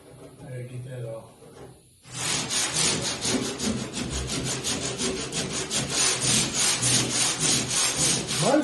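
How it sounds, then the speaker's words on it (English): Hand sanding a Charger's hood scoop: after a quiet moment with a voice, a rapid steady back-and-forth rasp of sandpaper scrubbing close by, continuing rhythmically to the end. "I've been going around it hand sanding"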